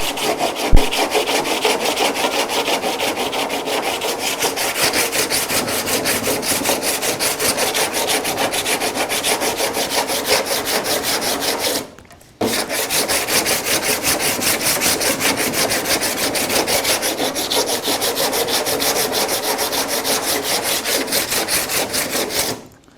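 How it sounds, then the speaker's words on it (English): A metal door panel is sanded by hand where a door handle is being shaved, with fast, even rasping strokes close up that run steadily, stop for a brief moment, then resume. "do a little sanding here."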